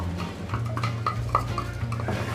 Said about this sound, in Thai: เราใส่ พริกกับกระเทียมที่เราปั่นไว้ลงไปเลย